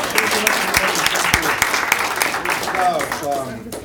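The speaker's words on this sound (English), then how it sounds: "Let's give him a round of applause, please." A seated audience at a general managers' get-together gives a lively round of applause that carries steadily, while voices begin to rise through the clapping near the end.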